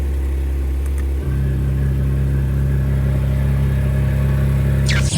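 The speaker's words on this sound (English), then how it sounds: "It changes the note of the exhaust at idle." A Porsche GT3's exhaust burbles at idle, a loud, steady low rumble that deepens slightly after a moment, with no voices.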